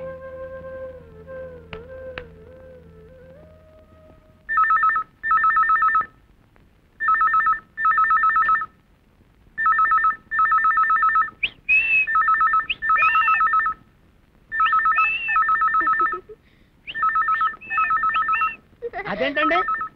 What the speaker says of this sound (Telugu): సైరన్ లాగా కుయ్యి కుయ్యి అని ఫోన్ కొట్టుకుంటుంటే వినపట్టలేదండి